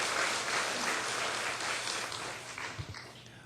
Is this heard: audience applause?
yes